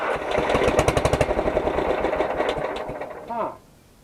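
A tractor-driven pump engine cranks in a fast, steady run of mechanical pulses for about three seconds, nearly catching, then dies away into quiet.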